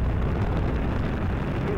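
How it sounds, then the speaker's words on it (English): Space Shuttle Endeavour lifting off on its STS-118 launch, a continuous deep rumbling roar with crackle, loud and unbroken, with no voices. "liftoff of Space Shuttle Endeavour"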